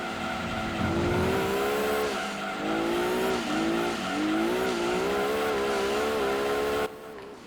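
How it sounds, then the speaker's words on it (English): A race car drifts in Gran Turismo 2 on the Rome Circuit, its engine revving in rising and falling sweeps while tires squeal through repeated slides for several seconds, loud and close, ending abruptly. "was some drifting right there"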